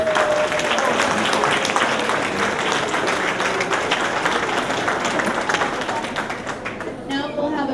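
Dense, loud applause from a graduation ceremony audience at an 8th grade event, steady clapping that fills the room and thins slightly near the end.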